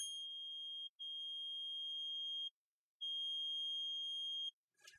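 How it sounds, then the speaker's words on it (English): Alarm on a Game Touch 28 game terminal: a pure high-pitched electronic tone sounding in three long beeps of about one to one and a half seconds each with short gaps, clean and steady. "The alarm will immediately sound"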